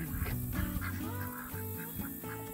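Several homestead ducks at a pond quack loudly and close by in repeated overlapping honking calls, forming a continuous noisy chorus.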